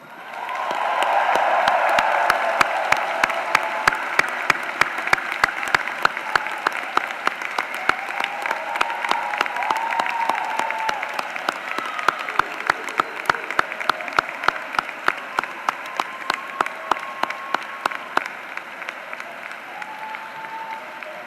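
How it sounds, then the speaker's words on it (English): Sustained applause from a large graduation commencement audience at the University of Central Florida, dense clapping with a few sharper claps standing out, steady and loud for about twenty seconds with no talking over it. "Graduates, please show them your appreciation with resounding applause."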